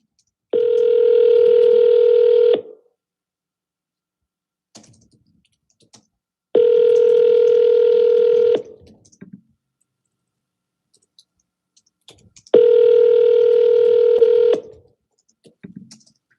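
Voicemail tone on a forwarded telephone call: three identical steady electronic tones, each about two seconds long, separated by silent gaps, clear and alone.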